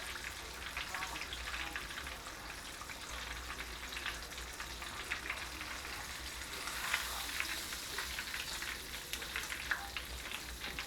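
Catfish pieces, whole fish and fillets, fry in hot oil with a constant, fairly quiet crackling sizzle, dense fine pops sustained evenly throughout.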